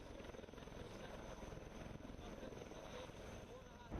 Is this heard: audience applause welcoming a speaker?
no